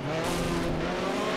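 A race car spins out in the Project Cars video game, its tires skidding and squealing over a steady engine drone for just over a second, loud and close.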